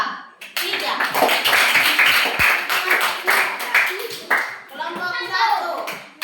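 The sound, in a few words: classroom applause for student group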